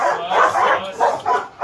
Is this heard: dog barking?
yes